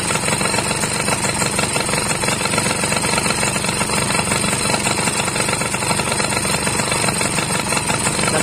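A Yamaha F1ZR two-stroke motorcycle engine idles close by with a steady, rattly buzz while its oil pump works, unbroken throughout.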